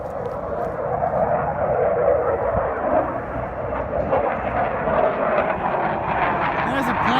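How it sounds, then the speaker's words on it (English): Loud, steady roar of an airplane passing overhead, a continuous broad rumble that persists throughout without breaks. "There's a plane up there. It's very loud."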